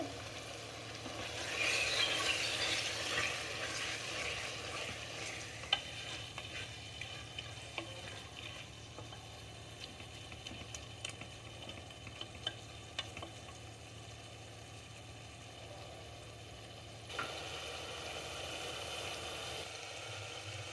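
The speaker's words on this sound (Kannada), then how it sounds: "ಟೊಮೊಟೊ ಉಪ್ಪು ಹಾಕ್ತಾಯಿದ್ದೀನಿ ಟೊಮೊಟೊ ಬೇಗ ಬೇಯಕ್ಕೆ" Tomatoes with salt fry in a pan for a fenugreek pulao, giving a steady, close sizzle with light stirring scrapes that continues throughout, easing slightly near the end.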